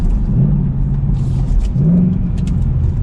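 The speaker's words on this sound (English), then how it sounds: "And it sounds good on those downshifts for sure." A Ford Mustang GT convertible's exhaust rumbles deep and close, swelling twice on downshifts over a steady low drone.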